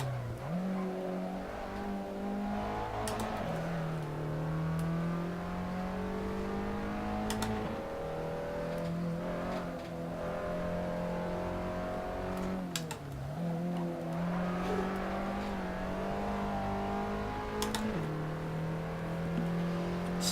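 A race car engine drones steadily through a multiplayer racing game, its tone rising through each gear and dropping sharply at shifts and braking, with faint tire noise, continuous and fairly close, without talk.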